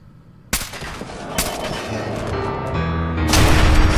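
Gunfire in the video game Fallout 4: sharp, loud shots crack out at intervals over a dense, continuing rumble of game action.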